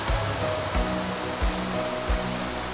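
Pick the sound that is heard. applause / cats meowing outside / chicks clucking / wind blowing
wind blowing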